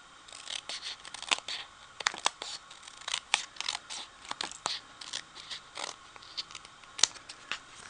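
Scissors trimming small paper card pieces, many quick, crisp close-up snips in irregular clusters over soft paper rustling, fairly quiet overall.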